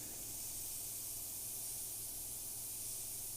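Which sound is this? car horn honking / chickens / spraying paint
spraying paint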